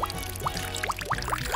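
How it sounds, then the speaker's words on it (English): Dirty water poured into a bottle holding rocks and colored gravel, a close, continuous glugging pour with rhythmic rising bubbling gulps. "I'll add the dirty water."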